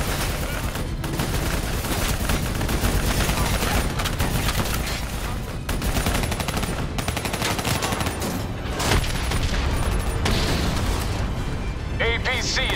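Sustained gunfire aimed at a VTOL aircraft in Call of Duty: Black Ops III, a dense continuous barrage of rapid shots and booms throughout, with voices talking over the battle.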